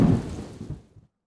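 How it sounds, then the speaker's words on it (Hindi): Rain and thunder in Islamabad and Rawalpindi, a brief loud low rumble with rain noise that fades and cuts off within about a second. "इस्लामाबाद और रावलपिंडी में वक्फे से बारिश का सिलसिला जारी है।"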